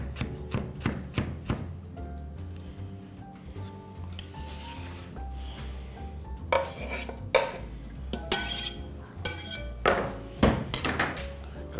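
Knife chopping capers on a cutting board, a run of sharp, close thunks in quick bursts separated by pauses, over soft background music.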